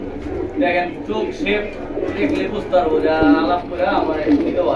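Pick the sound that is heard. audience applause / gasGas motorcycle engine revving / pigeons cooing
pigeons cooing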